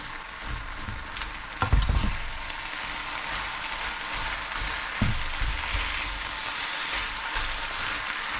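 Spinach stirred in a sizzling frying pan, a continuous crackling fry with a few louder scraping clatters of the utensil, close and alone.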